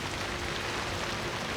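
Heavy rain falling in a steady, dense hiss, close and continuous with no breaks and no voices.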